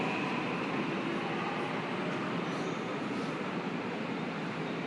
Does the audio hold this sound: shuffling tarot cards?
no